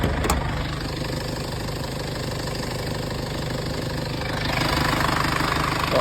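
A used car engine idles with the hood open, a close, steady rumble with a fine rapid pulse, the air conditioning left running, swelling a little louder near the end.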